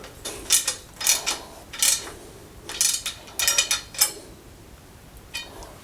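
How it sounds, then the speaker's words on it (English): A plumber tightens an old tap fitting after fitting a new washer, producing a series of close metallic clicks and ratcheting scrapes in short uneven bursts, fairly loud against a quiet background. "Tighten this up."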